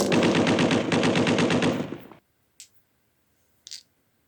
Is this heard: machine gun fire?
yes